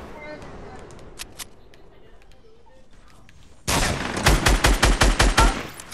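Gunfire from a sniper rifle in a multiplayer video game: after a quiet stretch, a loud burst of rapid repeated shots rings out close by, with faint earlier pops in the distance.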